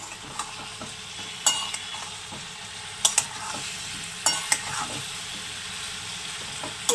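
Food frying in a pan, a soft constant sizzle with several sharp scrapes and clinks of a spoon stirring at irregular intervals.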